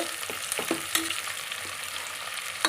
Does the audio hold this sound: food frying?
yes